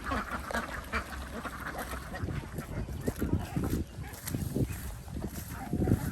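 Young CP Super laying ducks quack loudly and constantly in a close flock at a delivery in Prang Ku district. Overlapping nasal calls come in quick, uneven bursts, with a faint voice occasionally underneath.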